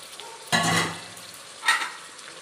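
A quarter kilo of mutton tossed into a pan of fried onions for a village-style uppu curry: two bursts of loud sizzling as the meat hits the oil and is stirred, fading between them, close by with no talk.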